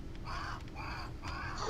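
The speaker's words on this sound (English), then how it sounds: "sounded like a bird" A bird in the video game Grounded caws three times in a slow, evenly spaced series, fairly clear over a constant low ambient hum, with no talk.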